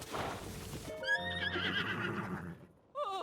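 Princess Zelda's horse in Tears of the Kingdom gives a loud, close whinny that rises and falls, followed by a few hoof clip-clops and a second, shorter neigh at the end.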